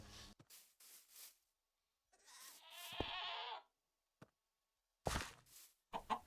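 Goats bleat in the video game Infinite Realm: several short close calls in separate bursts, with quiet gaps and one sharp knock between them.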